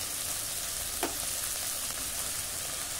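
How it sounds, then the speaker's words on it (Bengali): Ground spice paste with turmeric, a little water and salt being fried in a pan for a vegetarian banana flower ghonto, giving a steady close sizzle with one brief stirring scrape. "মশলা একটু ভালো করে কষিয়ে নেব"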